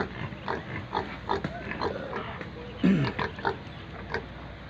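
Two pigs on a farm grunt and snort repeatedly in short irregular bursts close by, with people talking in the background.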